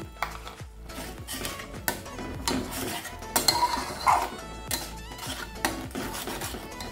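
A spice paste is being stirred and fried in a pan, with a steady clatter of a spoon scraping and knocking against the metal and a continuous background sizzle, close and fairly loud, with no voices.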